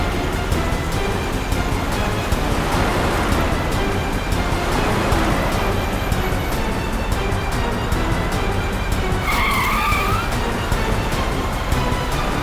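A car speeds along in a Hindi CID crime drama chase. A loud, continuous roar of engine and road noise runs throughout, and a short tire squeal rises near the end.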